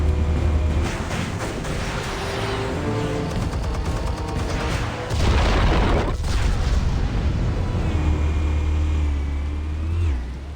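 Explosives detonate in a Batman video game, a heavy booming blast bursting out midway over a rumbling game soundtrack, with lower rumble continuing afterward.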